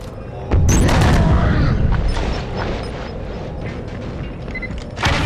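Destroyed unit exploding in a video game, a loud sudden boom with rumbling debris that decays over several seconds, followed by another sharp burst at the end.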